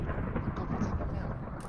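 Loud thunder in the game Minecraft, a deep sustained rumble that rolls on, close and heavy, with no speech.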